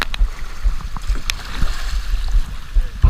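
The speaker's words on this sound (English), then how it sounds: "He's going through that little channel creek." A kayak moves through a narrow creek channel in a flooded field, with soft water gurgling and splashing paddle strokes at a steady, close rhythm and no talking.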